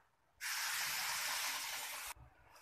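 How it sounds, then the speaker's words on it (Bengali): Blended spice paste hits hot oil with bay leaves in a kadai for a bhetki fish curry, bursting into a loud, sudden sizzling hiss that holds for under two seconds and then cuts back to a faint simmer. "এখন মশলাগুলো ভালোভাবে ভেজে নেব যাতে করে কাঁচা গন্ধ না থাকে"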